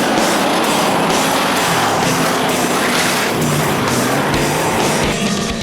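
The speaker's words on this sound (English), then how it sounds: "we have a stack up here on the first lap of the X-Mods" X-Mod race cars stack up on the first lap of a short-track race, with loud, continuous engine roar and tire noise close by and a clattering, crunching wash of contact between cars.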